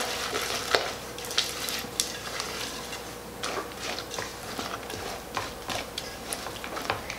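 Chopped walnuts stirred into a chocolate mixture for a walnut chocolate roll, a spoon scraping and clicking through the thick mass in repeated uneven strokes, close and fairly quiet.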